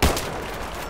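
A single sharp gunshot from a JNG-90 sniper rifle fired without the scope in Battlefield 3, a quick loud crack with a short decaying tail.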